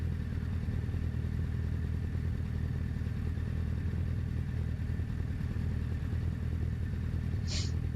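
A 750 Motor Club race car idles on the grid at the start of a race at Silverstone National, giving a steady, unrevved engine drone that stays constant and fairly close throughout.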